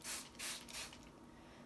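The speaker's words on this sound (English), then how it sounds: "I have a spray bottle that I'm just gonna spray very generously with water" Several short hissing sprays from a handheld spray bottle wetting a paper towel for sprouting seeds, three bursts close to the mic and quiet, followed by a brief soft handling thump.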